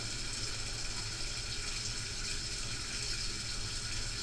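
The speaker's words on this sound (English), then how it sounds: "you can hear the water flowing into that pit now" In a fantasy role-playing game, a sound effect of water flowing into a sewer pit runs as a quiet, even stream of trickling and rushing water, continuous and distant-sounding, with no talking.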